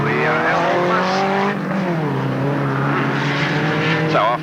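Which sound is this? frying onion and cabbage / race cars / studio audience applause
race cars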